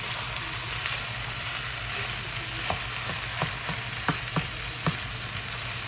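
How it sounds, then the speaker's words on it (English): Chicken fried rice with a splash of rice vinegar, frying in a pan while being stirred: a dense, continuous sizzle with a series of sharp spatula knocks against the pan toward the end, no talk. "with fried rice, like I say, you just have to keep stirring"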